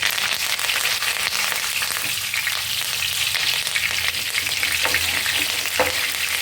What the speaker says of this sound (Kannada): ಕರಿಬೇವನ್ನು ಚೆನ್ನಾಗಿ ಒಳ್ಳೆ ಕಲರ್ ಬರೋ ಥರ ಎಣ್ಣೆ ಒಳಗೆ ಚಲೋ ಥರ ಫ್ರೈ ಮಾಡ್ಕೊಬೇಕು